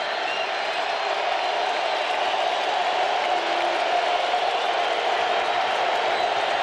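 A stadium crowd at a 2006 Falcons vs Cowboys football game roars in a steady, dense wash of cheering and noise that holds loud and unbroken throughout.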